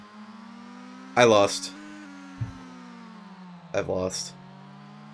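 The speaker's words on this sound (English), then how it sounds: "They have car noises." Car engine noises from the video game Ball 3D: Frisbee Soccer make a steady, droning hum whose pitch slowly rises and falls, running under two short bursts of a person talking.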